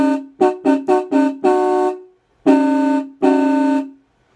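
A vintage electric car horn running on 6 volts honks in five short quick blasts, then one longer blast and two long sustained blasts, loud and close with silent gaps between.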